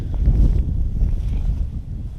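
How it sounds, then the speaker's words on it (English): Strong wind roars and buffets the microphone with a heavy, low rumble, steady and loud throughout. "It's freaking windy out."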